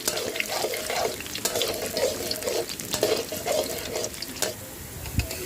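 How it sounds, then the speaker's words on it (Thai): Garlic frying in hot oil until golden and crisp, a steady broadband sizzle and bubbling throughout with occasional clinks of a utensil, close and fairly loud, no talking. "เจียวกระเทียมให้เหลืองกรอบหอมเลยนะคะ"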